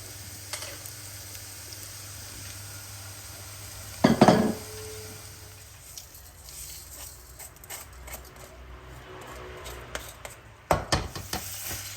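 Rice is tipped into a hot frying pan for pilau rice and stirred, giving a brief loud clatter and rustle, then a low steady sizzle and a second burst of stirring and scraping near the end.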